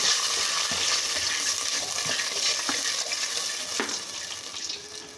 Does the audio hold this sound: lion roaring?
no